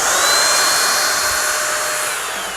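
A cordless, battery-powered rechargeable paint spray gun running steadily with a close, even high-pitched whir and hiss, no compressor, sustained for a few seconds and slowly fading slightly.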